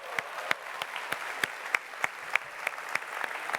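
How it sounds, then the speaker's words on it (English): An audience at a gaming expo applauds the Jurassic World Evolution developers, with sharp, evenly spaced claps sounding close and steady under a soft background wash, no voices. "please, one last time, a huge round of applause for the Jurassic World Evolution developers"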